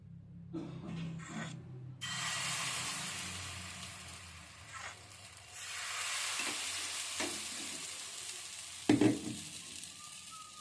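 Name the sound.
stirring patishapta batter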